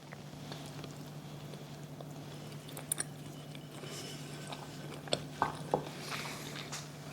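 Someone eats a cranberry chicken pasta salad, with soft, steady chewing and a few sharper crunchy bites standing out near the end, quiet and close under a low background hum.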